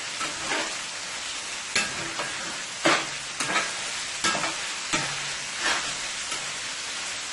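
Chicken frying in a pan for wraps, heard as a loud continuous sizzle broken by repeated scraping stirs and taps of a utensil at irregular intervals, with no voice.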